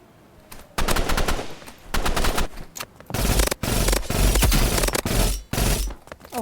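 Automatic gun spray fire in the Roblox game Rivals: loud, rapid bursts of shots, several separate volleys cut by short pauses, close and dominant, with no talking.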